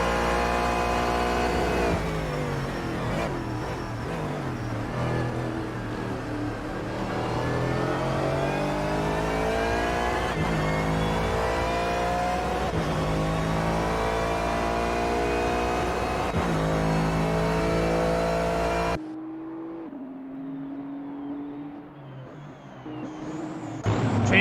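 Several GT3 race cars in a racing video game set at Sepang scream past in loud, sustained engine notes, pitches sweeping up and down through gear shifts, before a sudden drop to a quieter, thinner single engine at the end.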